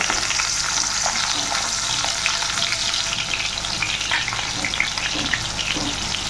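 Chopped onion fries in a pan for a Bengali kachur loti and chingri shutki dish, giving a loud, steady hiss of sizzling oil with light stirring scrapes, close and continuous, with no voices.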